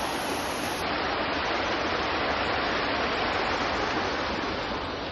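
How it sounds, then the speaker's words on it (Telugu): Rushing waterfall at IIT Tirupati on a rainy day, a loud, steady broadband roar of falling water that fills the whole clip without any break. "water fall side Tirupati water fall"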